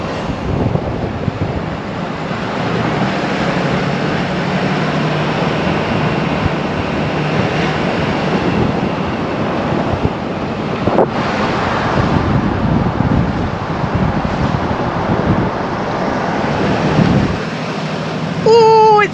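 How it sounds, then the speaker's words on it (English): Strong wind roars and buffets loudly and continuously at St. Mary's Pass, heard while driving, a rough, gusty rush that swells and fades without a break. "Oh, it's windy."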